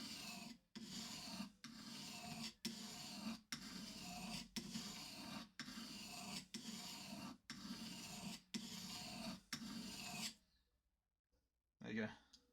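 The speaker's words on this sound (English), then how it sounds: "now when I do the sharpening here" About a dozen quick, even rasping strokes of a metal file sharpening a piece of metal, close and regular with short gaps between, then silence and a faint clatter at the end.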